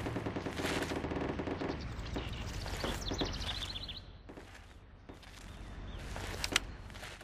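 Bursts of automatic gunfire rattle out in the tactical military shooter Project Reality, with rapid volleys early on and sharper isolated shots later, some near and some more distant.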